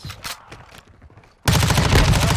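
Suppressed automatic gunfire from a rifle in Call of Duty: Modern Warfare II multiplayer, a loud rapid burst of shots that starts abruptly after a quieter stretch of game sounds and keeps going to the end.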